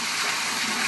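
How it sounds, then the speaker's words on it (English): Water gushes back from an aquaponics grow bed into a fish tank in Nicaragua, giving a steady, close splashing flow for the whole short moment, with no voices. "What you're seeing now is water returning from the grow bed back to the fish tank"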